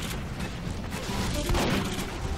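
Dense shotgun fire during a chaotic Team Fortress 2 firefight, loud and continuous with overlapping blasts and crashes, swelling around the middle with no pause.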